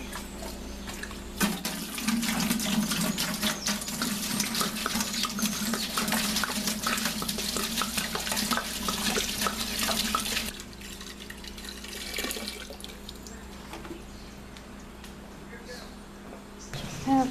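Water runs steadily from a tap for about ten seconds, a close, broad rushing splash, then cuts off, leaving quieter room noise and faint handling sounds, while homebrewing beer.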